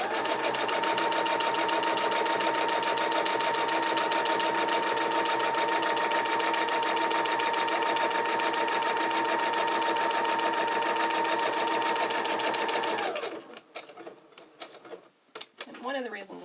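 A sewing machine runs steadily for about thirteen seconds, stitching the pages of a junk journal with an even, fast mechanical whir, then stops, leaving a few quiet handling sounds.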